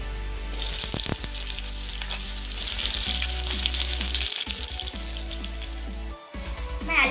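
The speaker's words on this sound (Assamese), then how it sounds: "প্ৰথমতে আমি আলুখিনি ভাজি লওঁ" Potatoes fry in hot oil for an Assamese chicken curry, giving a close, steady sizzle with occasional stirring scrapes and bubbling and no talking.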